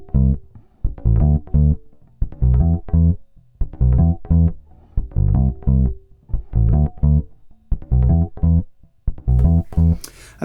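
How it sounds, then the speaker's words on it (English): A bass guitar plays a repeating groove, with quick sixteenth-note pickup notes leading into strong, sustained low notes in a steady looping pattern, loud and clean with no voices. "So a groove might sound like this with 16th note pickups."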